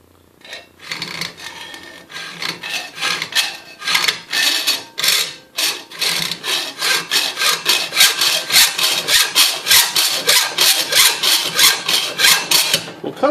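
A hacksaw cuts through a metal part for a knife grinder built from a Harbor Freight belt sander. Steady rhythmic back-and-forth rasping strokes sound close and loud, speeding into a fast even rhythm, with no voices.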